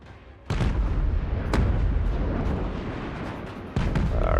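Cannon and crane gunner artillery fire in a Total War Warhammer 3 battle between Cathay and enemy forces, with heavy booming blasts at the start and near the end over a continuous loud rumble of battle.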